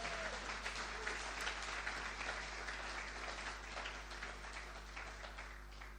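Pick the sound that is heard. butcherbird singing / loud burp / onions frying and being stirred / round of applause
round of applause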